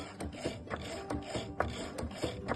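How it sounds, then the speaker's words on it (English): A Cricut Maker 4 cuts perforated scoring lines into craft board with quiet, rhythmic mechanical clicking and ratcheting, repeating at a regular pace over a soft motor whir. "So the machine is cutting the perforated scoring lines for me now."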